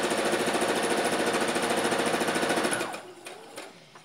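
A sewing machine runs in a fast, even rhythmic chatter while stitching the step panels of a backless frock, then stops abruptly, leaving a few faint handling clicks.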